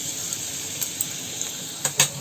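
Chana dal and urad dal fry in a spoonful of hot oil in a pan, giving a steady close-up sizzling hiss with a few small crackles and pops near the end.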